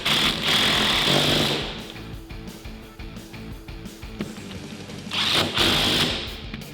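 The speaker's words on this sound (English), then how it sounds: "take a 14mm socket and tighten them down" A 14mm socket tightening bolts during a Rough Country 2-inch leveling kit install on a 2005-2021 Toyota Tacoma, heard as loud, rattling power-tool bursts at the start and again near the end, with quieter clanks in between.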